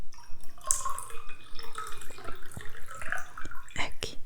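Water poured for drinking makes small close trickles and drips with faint glassy clinks, gentle and intermittent, while a voice whispers softly underneath.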